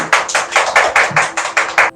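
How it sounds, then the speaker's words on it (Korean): Audience applause welcoming a guest onto the stage at a Korean business talk event, heard as a string of about nine distinct clap bursts in a steady rhythm, fairly loud and close, with no talking. "지금부터 박수로 청해 듣겠습니다. 박수."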